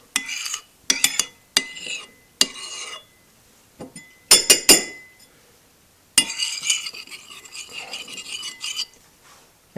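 A teaspoon clinks and scrapes against a glass container while stirring yeast into an agave syrup wash, in short bursts of rattling taps with pauses, then a longer continuous swirl.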